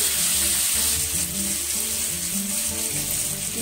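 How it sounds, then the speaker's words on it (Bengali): Paneer cubes fry gently in hot oil over a low flame, giving off a steady, soft sizzling hiss throughout. A low hum runs underneath. "আমি এক এক করে কেটে রাখা পনিরের কিউবগুলো আমি তেলে দিয়ে দেবো এবং হালকা হাতে এগুলোকে একটু ভেজে নিতে হবে।"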